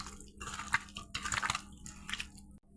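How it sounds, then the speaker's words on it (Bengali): Hands mix chicken with spice paste and mustard oil at close range, giving wet squelching and squishing sounds in short irregular bursts. "এবার মাংসটা মশলার সঙ্গে ভালো করে মেখে নেব।"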